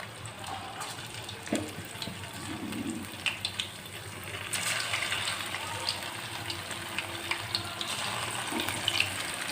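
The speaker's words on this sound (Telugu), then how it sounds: "సో ఆయిల్ అయితే హీట్ అయిపోయింది ఇప్పుడు బెండకాయలు ఇట్లా వేసేసుకుందాం" Okra frying in hot oil for a bendakaya fry, giving a steady, moderately loud sizzle that swells about halfway through, with a few faint clinks and no talking.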